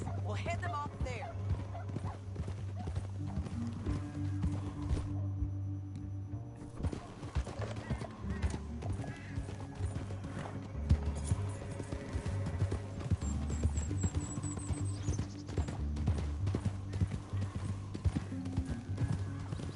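Horse hooves clip-clop in Red Dead Redemption 2, a steady walking rhythm of hoofbeats under a low music score, with a horse whinnying and characters talking over it.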